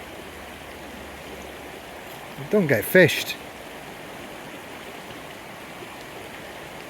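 A small mountain stream in the Brecon Beacons, Wales, rushes in a steady, soft wash throughout, briefly covered by a man's short remark.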